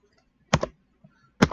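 Two separate key presses on a computer keyboard, each a short, close, distinct click with a quiet pause between them.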